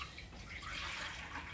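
Hot water is poured steadily into evaporated milk for ensaymada dough, a continuous close splashing stream with no gaps.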